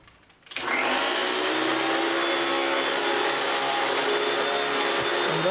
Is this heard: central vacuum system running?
yes